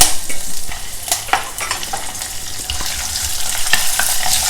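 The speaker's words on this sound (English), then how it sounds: "Fry everything well together." Carom seeds, ginger, green chillies and curry leaves fry in hot oil for a South Indian mor rasam, sizzling loudly and continuously up close while a utensil scrapes and stirs through them.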